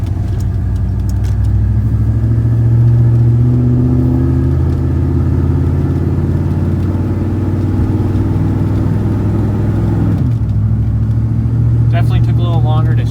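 A 1996 Ford F350 truck drives along after a timing adjustment, its engine giving a steady, loud low rumble that dips briefly near the end as it shifts gears, with a voice speaking over it.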